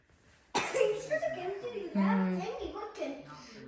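A child coughs a few times close by, mixed with a short burst of voice and throat sounds.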